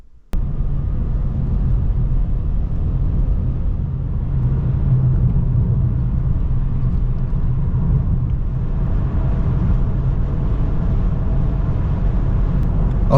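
A BMW 330d driving on the road toward Crawley in West Sussex gives a steady, loud engine and road rumble from inside the car, unbroken for the whole stretch with no talk.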